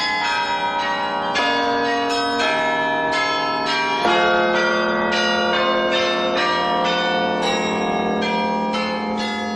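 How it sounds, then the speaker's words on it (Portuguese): Carillon of 92 bells, the largest in the world, ringing a continuous melodic peal of overlapping bronze tones, loud and close, with a dense sustained ringing throughout. "o maior carrilhão do mundo com 92 sinos"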